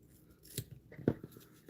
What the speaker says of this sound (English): I'm just gonna cut it off.